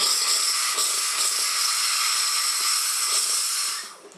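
A loud, steady hiss of steam blasts for about four seconds at close range from a Kenwood eS430 espresso machine steam wand being purged, then cuts off abruptly.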